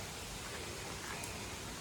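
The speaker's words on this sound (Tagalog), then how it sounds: "ang lakas ng tubig from the mountain" Strong mountain stream running high after days of rain beside a hiking trail toward Shatin Pass, Lion Rock, Hong Kong: a steady, broadband rush of water, close and continuous with no break or speech.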